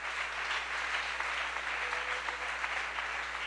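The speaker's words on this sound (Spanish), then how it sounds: "si lo va a aplaudir, por favor, que se desborde" A church congregation applauds during a sermon, a dense, even wash of clapping heard from a distance over a low steady hum, with no speech on top.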